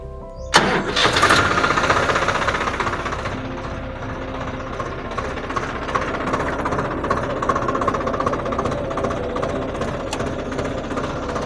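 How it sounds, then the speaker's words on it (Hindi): A 744 XT tractor engine cranks and fires with a sharp start, then settles into a steady, loud, close diesel idle with a knocking rumble that continues alone. "ये फीचर मैं आपको ट्रैक्टर स्टार्ट करके बताता हूँ।"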